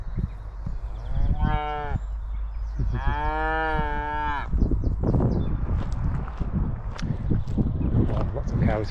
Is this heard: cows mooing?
yes